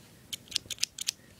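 Scissors snipping open a plastic toy bag, about five quick, crisp cuts close by in a quiet room.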